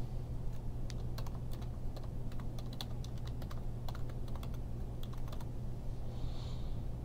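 Rapid, uneven typing on a computer keyboard while a file name is entered, with close, crisp key clicks over a steady low hum for about seven seconds.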